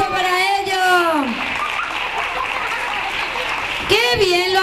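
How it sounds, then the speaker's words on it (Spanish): An audience claps for children after a storytelling session: a steady wash of clapping fills the middle of the clip, with a voice speaking over it at the start and again at the end. "un aplauso para ellos"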